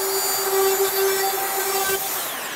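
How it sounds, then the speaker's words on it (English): A router fitted with a chamfer bit bevels the edge of a PVC shower panel, giving a steady, close, high-pitched whine with a sustained tone that runs through the whole stretch. "I'll take a router with a chamfer bit in it and I'll put a little bit of a bevel right on this edge"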